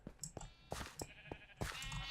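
Sheep in Minecraft bleat several times in quick succession, short nasal calls close by and fairly quiet, with no speech.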